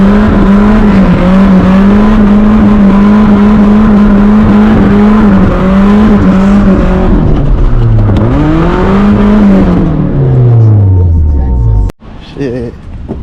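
A Nissan 240SX drifts on a wet street, its engine droning loud and steady at high revs, then wavering as the car swings around and winding down before a sharp cut; a voice talks over it.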